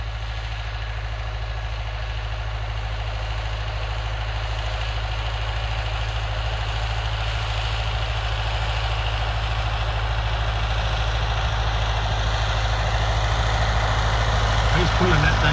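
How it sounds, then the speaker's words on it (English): A Farmall 504 diesel tractor pulls a disc through corn ground, its engine a steady, loud low drone that holds without a break and swells slightly toward the end. "He's pulling that thing in full gear with that tractor."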